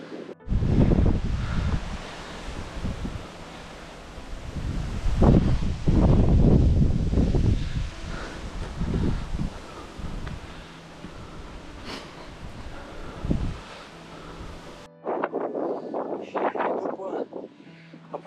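Wind buffets the microphone on a mountain summit above Rimetea in the Apuseni range, gusting loudly and unevenly in roaring surges while a person talks over it.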